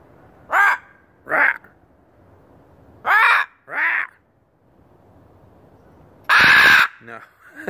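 A pet macaw gives several loud, harsh squawks spaced apart by pauses, close to the listener, ending with one longer, louder screech and a brief softer call.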